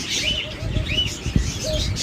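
Doves held among many caged birds at a bird seller's coo in soft repeated calls close by, mixed with higher chirps and a brief wing flutter, without speech.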